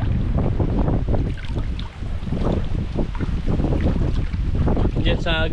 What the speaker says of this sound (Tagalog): Grabe lakas ng amihan